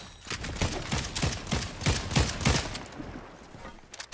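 Video game gunfire, a rapid string of about a dozen shots in quick succession followed by a fading rumble, fairly loud and continuous with no talk.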